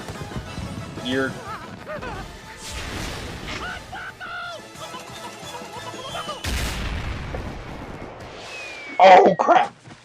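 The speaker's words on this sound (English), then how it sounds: "And enjoy the fireworks!" Cartoon fireworks explode in a Mickey Mouse Disney short as a jumble of crashes, booms and bangs under animated character voices, ending with a loud burst of rapid blasts.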